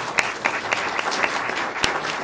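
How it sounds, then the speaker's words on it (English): At a Plant City candidate league event, the audience breaks into applause, with loud, close clapping from a modest crowd and a few sharper claps standing out over the steady patter. "and applause, please."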